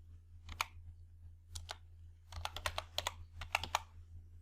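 Quiet keystrokes on a computer keyboard come in short bursts of crisp clicks with brief pauses between groups, close and alone in an otherwise silent room.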